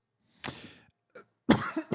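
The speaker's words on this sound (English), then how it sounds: "Excuse my cough there." Two coughs from a man, one short and a second stronger one with a throaty tail, close to the microphone in a quiet room.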